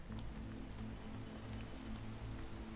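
Steady rain falling in a video game scene, an even wash of close patter that runs without a break for the whole stretch, with a faint low hum beneath and no talking.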